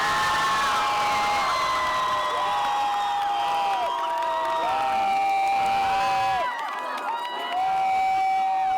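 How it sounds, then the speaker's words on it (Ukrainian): Protesters cheer and applaud the announced vote results, a dense crowd roar with shouts and whoops rising over continuous clapping, loud and sustained throughout. "А результати голосування зустріли оплесками"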